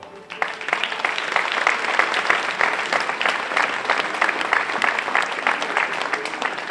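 Steady, dense applause from a large gala audience at a sand-queens pageant results night, clapping continuously throughout, loud and unbroken from start to finish.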